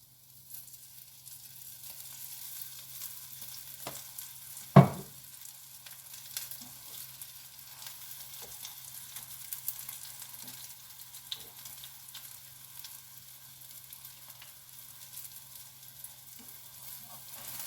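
Sardine patties fry in a little oil in a pan, giving a steady close sizzle with a low hum beneath and one sharp clatter partway through.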